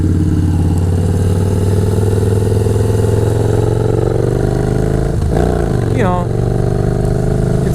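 A Yamaha Bolt C-Spec 950 motorcycle engine drones steadily at close range, then revs up sharply near the end with rising pitch as it accelerates, the exhaust loud throughout.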